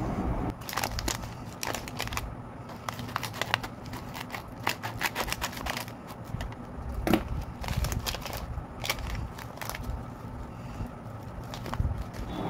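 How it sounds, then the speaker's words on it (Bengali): Dry flattened rice (chira) pours into a container with a steady crackling, rustling patter, close and continuous, with several sharp clicks throughout. "চলো এবার চিঁড়েটা ঢেলে ফেলি, দেখি কীরকম জিনিসটা।"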